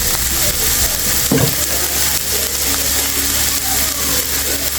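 Squid frying in a hot pan for adobo gives a loud, continuous sizzle close by, with stirring scrapes and a sharp clatter partway through.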